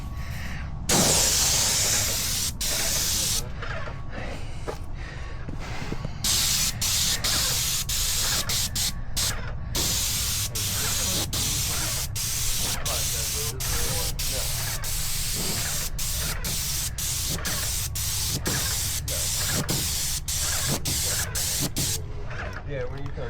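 A paint sprayer gives off a loud, continuous spray hiss while coating a house exterior during a large repaint, broken by frequent brief cut-offs as the trigger is released. Workers' voices come through now and then.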